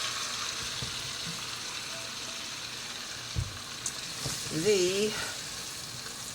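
Butter sizzles softly in a pan as it finishes melting, a steady quiet frying hiss with a few light knocks and a brief voice near the end.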